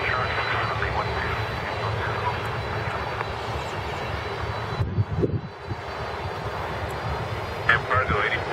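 An aircraft engine roars steadily at Miami International Airport, a broad sustained rumble with a brief dip midway, while voices talk over it.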